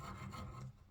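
A hacksaw blade rasps rust out of bolt threads during a rear wheel bearing job on a Jaguar XK XKR X150. It is a short, close scraping stroke that lasts under a second.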